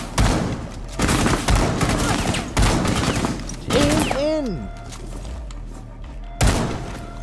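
Gunfire in the video game Rainbow Six, several loud heavy booming shots spaced about a second apart, with a descending electronic whine and trailing echoes between them.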